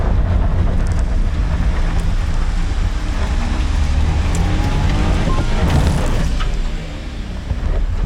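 A Suzuki Carry kei truck strains to pull away off-road from a dug hole while tilted, its engine loud and continuous with rumbling low-end noise and a brief surge toward the end, no voices.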